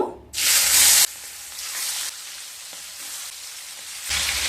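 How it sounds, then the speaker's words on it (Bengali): Pomfret fish frying in hot mustard oil in a pan: a loud burst of hissing sizzle as the fish goes in, settling to a steady crackling fry, then swelling again near the end. "তেল গরম হয়ে গেলে মাছগুলো ভেজে নেব।"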